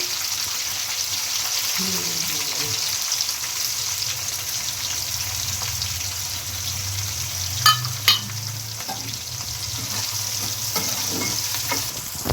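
Chopped onions sprinkled with salt fry in a pan for onion pakodi, giving a continuous close sizzle with occasional stirring scrapes and two brief clinks, and a faint voice murmuring briefly early on.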